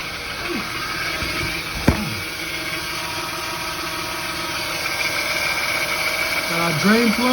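A 2003 Honda Accord with a 3.0L V6 idles right after an oil change with fresh 5W20 synthetic, a steady low hum running evenly throughout, with a couple of brief voice sounds over it.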